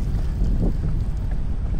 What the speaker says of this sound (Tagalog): Tubig, ulan, hangin,